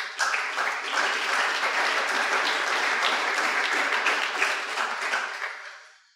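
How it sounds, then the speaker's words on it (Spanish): A church congregation claps in praise during a Spanish-language sermon, a sustained, fairly close burst of many hands that holds steady for several seconds, then fades out quickly at the end. "Démosle un aplauso al Eterno."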